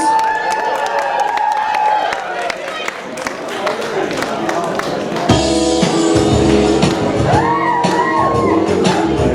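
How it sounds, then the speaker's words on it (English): Wedding guests applaud and cheer for the bride and her father, a crowd of clapping, shouts and whoops at moderate distance, rising louder midway as music starts, with a voice over the noise. "can we give the bride and the bride's father a big tune, a big round of applause, please?"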